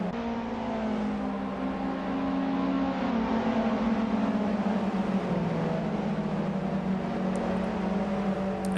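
Touring car engines in a racing video game, the field running down the Wellington straight at Silverstone, hold a steady loud drone with rising and falling pitch throughout.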